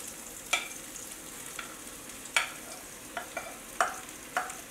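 Peppers and mushrooms softly sautéing in a pan for fried cabbage, a faint steady sizzle broken by a few sharp scrapes and stirring clicks of a utensil.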